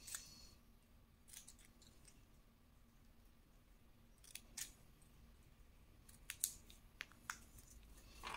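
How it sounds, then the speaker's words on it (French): Scissors snip a paper strip into small teeth, producing faint, crisp cuts in irregular bursts against a quiet room, with clusters of closely spaced snips toward the end. "sur la bande ici des 1 cm, vous allez couper, voilà, en formant des petites dents comme ça"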